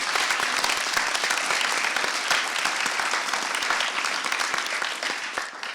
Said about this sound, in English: Can you a round of applause for them, please?